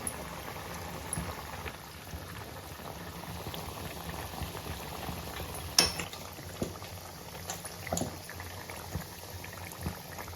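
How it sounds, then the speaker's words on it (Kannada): Chakli, spiral savoury snacks, fry in hot oil in a home kitchen, giving a steady, soft bubbling sizzle with an occasional louder pop and no talking. "ಚಕ್ಲಿ ಚೆನ್ನಾಗಿ ಫ್ರೈ ಆಗ್ತಾ ಇದೆ."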